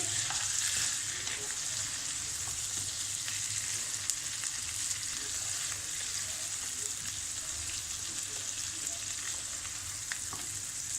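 Steady close sizzling of chicken biryani masala frying in a pan while chopped coriander and green onion are stirred in, with soft scraping from the stirring and no talking.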